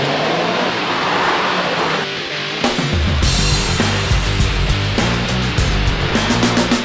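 A Renault Clio 4 RS drives on a wet race circuit, its engine note loud and continuous with shifting pitch as it accelerates, heard from on board without talk.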